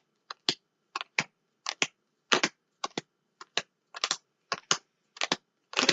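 Tarot cards are laid out one at a time in a brisk, regular series of about a dozen crisp paired snaps and slaps on a surface. They are close and clear, with quiet gaps between them.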